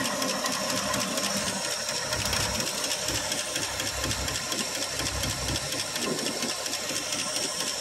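A 1965 Ford Fairlane 500's 289 V8 engine running steadily after a cold start following three years unused, with a busy, rattling idle and hissy overtone, constant and close with no voices.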